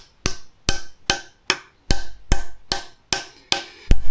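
A light little hammer taps a wedge into an axe handle during re-handling, giving nine close, sharp, ringing strikes at an even, unhurried pace of about two per second, each one decaying briefly.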